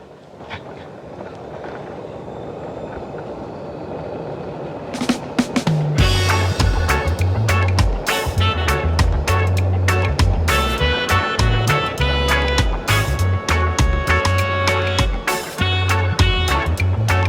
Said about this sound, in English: driving through Tryall on the golf cart